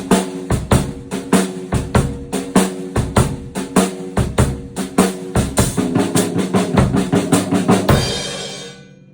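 A full drum kit plays a steady swung shuffle groove, with snare backbeats and cymbals throughout, ending on a ringing crash.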